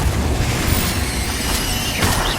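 Confringo spell blast in Hogwarts Legacy, loud booming bursts over a dense roar of combat noise, with a strong hit around the middle and another near the end.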